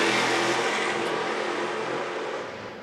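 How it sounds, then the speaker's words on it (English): The number 28 race truck at Nashville revs hard on throttle, passing as a loud, bright engine roar that slowly fades into the distance. "Stout back on the throttle there with the number 28 truck"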